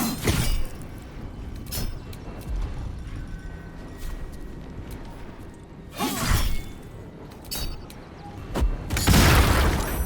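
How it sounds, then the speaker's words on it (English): Bomb blasts in Baldur's Gate 3, several sharp booming bursts with shattering debris spread across the scene over a rumbling combat background. "he threw a bomb?"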